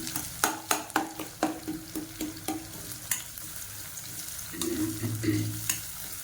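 Crushed garlic cloves and green chillies sauté in a pan, a steady close sizzle broken by a rapid run of spoon scrapes and taps against the metal that gives way to continuous frying.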